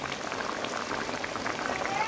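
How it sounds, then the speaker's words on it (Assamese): Curry bubbling in a pot with fish about to go in, a dense, continuous hiss with rapid popping bubbles at steady close range. "আঞ্জাখন ধুনীয়াকৈ উতল আহিছে"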